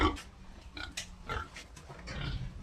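Pigs on a pig farm, penned for delivery, grunt and oink in short, close bursts, several overlapping snorts in quick irregular succession with no talk.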